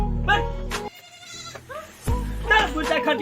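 A village goat bleats in several wavering calls, loud and close, alternating with a voice speaking between the cries.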